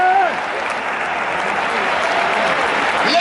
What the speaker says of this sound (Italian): L'entusiasmo, l'urlo e l'applauso della Maradona è dedicato a lui, il mister azzurro Luciano Spalletti